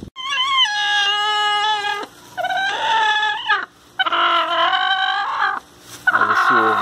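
A broody hen sitting on eggs, giving loud, drawn-out clucking calls in several strained bursts close by, with no talk.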